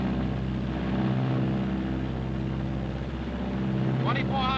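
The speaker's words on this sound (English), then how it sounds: "Throttling back now to normal rated power, which is 38 inches of manifold pressure." Martin B-26 bomber engines throttle back to normal rated power, a loud, steady droning roar with a deep, even hum that holds close throughout the cabin.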